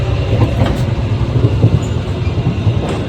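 Steady low rumble and rattle inside a moving KA Ranggajati economy-class passenger train, with continuous rolling noise and faint clunks throughout, no voices.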